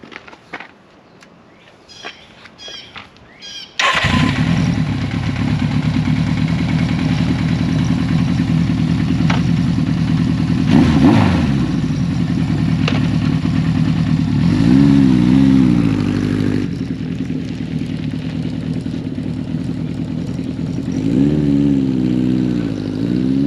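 A Suzuki GS1100 motorcycle starts with a few clicks, then its engine runs loud and close while riding, rising and falling through revs and gear changes with steady wind rush.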